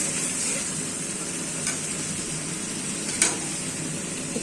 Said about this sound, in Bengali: মশলাটা ভালোভাবে কষিয়ে নিয়েছি। এখন আলুগুলো দিয়ে দিব।